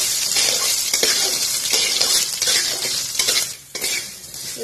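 Ingredients sautéing with tamarind in a pan for mint chutney, loud bright sizzling throughout with constant scraping and clinking of a spoon stirring against the metal, briefly dipping near the end.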